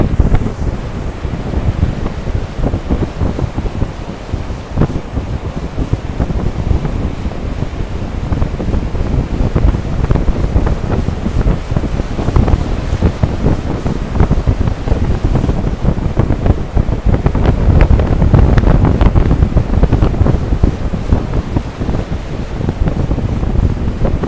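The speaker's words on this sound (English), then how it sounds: "Probably hear the wind, and I have a mic on, but you can hear what I'm hearing" Wind on a beach buffeting a clip-on microphone, a loud, continuous roaring rumble with gusty surges and possible surf underneath, no speech.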